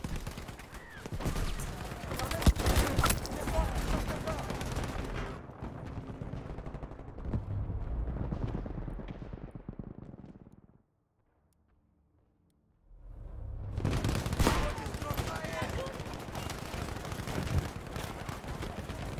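Dense gunfire and rattling shots from enemies holding point B in Battlefield 5, loud and continuous with bursts layered together, dropping to near silence briefly before the firing resumes.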